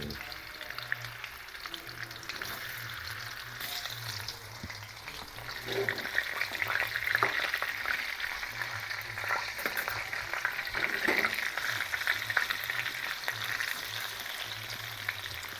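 Yellow tofu frying in a pan with minced pork, a steady sizzle that swells louder partway through with stirring clatter.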